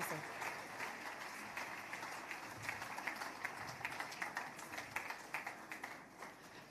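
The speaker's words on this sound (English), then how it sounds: "Wow, a round of applause." An audience at an entrepreneurship talk claps steadily, a fairly faint, dense wash of many hands that thins out and fades toward the end.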